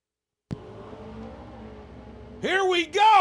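A drag racing launch of a 1979 Chevy Camaro against a 1972 Nova in the small tire street car class: a sharp bang, then a low idling rumble, then loud rising engine revs near the end under an announcer's voice.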